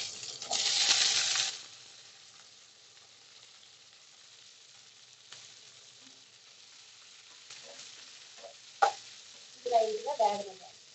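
Chopped onions and green chillies hit hot oil for sambar, giving a loud burst of sizzling at the start that quickly dies away, followed by quiet frying and a few sharp utensil clinks.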